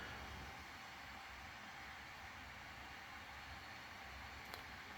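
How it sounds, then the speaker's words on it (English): An old IDE hard drive in a Windows 2000 computer hums steadily, a constant broadband whir with no change over several seconds and a single faint tick near the end. "The humming noise you hear, that is the hard drive, not the fan."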